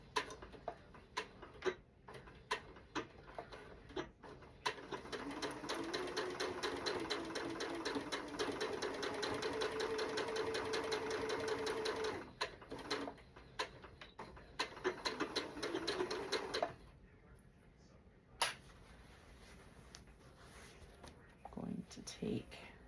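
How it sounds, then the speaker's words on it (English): A sewing machine runs a straight stitch along quilt binding strips, its rapid needle ticking in bursts over several seconds, fairly quiet, with pauses and clicks between runs. "I'm just going to sew along the diagonal just with a straight stitch."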